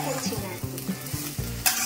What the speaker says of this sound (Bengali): আমি চিচিঙ্গিগুলোকে একটু ভেজে নিচ্ছি